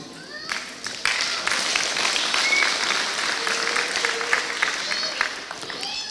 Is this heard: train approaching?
no